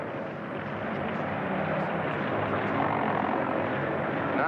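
Propeller airplane engines drone loud and steady at an airfield during the Berlin airlift era, a thick continuous roar that builds slightly, with no talk over it.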